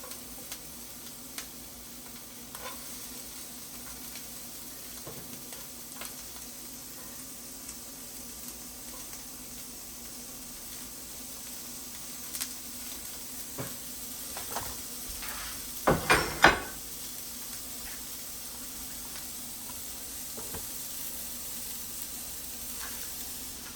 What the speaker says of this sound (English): I'm gonna add my onions.